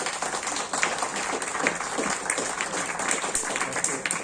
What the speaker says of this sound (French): je vous demanderai de les applaudir